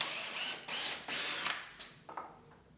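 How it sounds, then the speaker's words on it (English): Screws being pulled from a fixture with a ratchet tool during shop demolition work: several bursts of quick, close ratcheting clicks, each a second or less, with short pauses between them and the last bursts fading. "Pull the screws out of it,"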